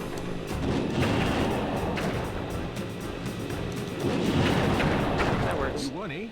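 Vehicle turret fire in the video game Sly 2, heavy booming shots repeating steadily at close range over a rumbling engine, with a voice briefly speaking near the end.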